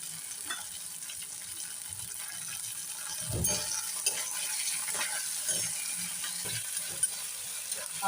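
Green peas and onions sautéing in a pan with a steady low sizzle, broken by the occasional scrape and clink of a spoon being stirred through them.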